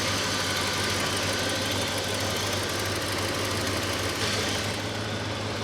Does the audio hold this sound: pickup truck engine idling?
yes